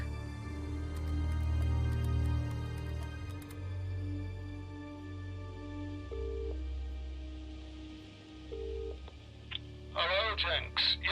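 Phone call sounds in the Contradiction video game: a low, steady line tone and a couple of short beeps from the handset, then a muffled voice coming down the line near the end.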